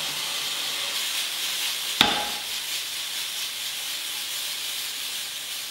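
Soy sauce hits cooked meat in a pan with a sharp splash, followed by a steady, quiet sizzle and hiss that continues alone.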